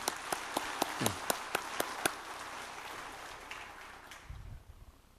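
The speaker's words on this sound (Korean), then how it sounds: "우리 뜨거운 박수로 환영하겠습니다." A church congregation applauds in welcome during a worship service: a run of sharp, evenly spaced claps stands out over a soft wash of broader applause that fades toward the end, where a low rumble comes in.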